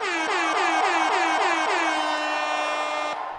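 A loud air horn sounds in a rapid series of short repeated blasts, then holds one long steady tone before cutting off.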